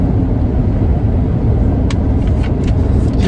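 A car driving along a forest road produces a steady, close interior road rumble and engine drone throughout, with a few faint higher hisses and no talking.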